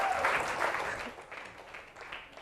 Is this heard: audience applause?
yes